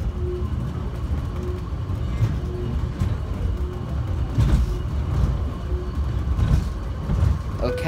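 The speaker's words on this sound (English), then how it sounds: "And there's the other train." A subway train rumbles steadily nearby on an airport terminal line, with low rolling noise, rattles and intermittent clunks as it moves along the track.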